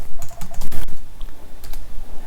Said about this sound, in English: So this is what it sounds like typing on the Logitech with multiple keys.